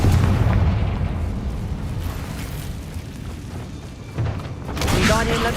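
A Confringo fire spell bursts in Hogwarts Legacy as a deep, rumbling blast that rolls on for seconds, loud and booming, with a brighter crackling flare near the end.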